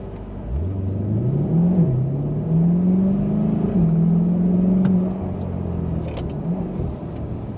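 A Chevrolet C8 Corvette 2LT in sport mode pulls away hard across a long parking lot, its engine note climbing steadily in one loud, sustained run that holds high and then eases off near the end.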